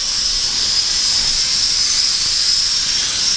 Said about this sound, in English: just going to hover until it runs out of power